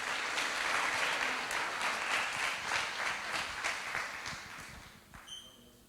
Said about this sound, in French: Et je pense qu'on peut très fortement applaudir aussi Lilian pour ses mots